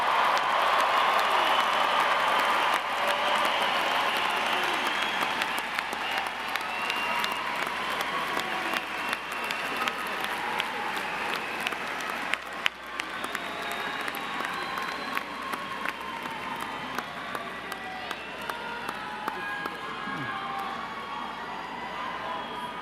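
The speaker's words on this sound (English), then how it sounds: "let's give them a real rousing round of applause." Graduation ceremony audience giving a rousing round of applause, dense sustained clapping from a large crowd in a hall, with scattered cheers and shouts, gradually thinning toward the end.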